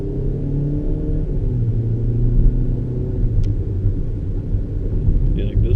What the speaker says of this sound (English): she came flying through here like she's going somewhere, and then just automatically slows down